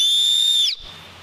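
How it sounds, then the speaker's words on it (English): A Jet Scream emergency whistle blown hard in one sustained, piercing high-pitched blast lasting about three-quarters of a second, then cutting off abruptly with only faint background remaining. "One I'd recommend for people out there is the jet scream whistle."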